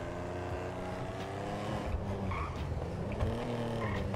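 A deep, rumbling Mercedes-Benz AMG S63 engine in GTA V revs and drones, pitch rising and falling as it accelerates, loud and close with no talking.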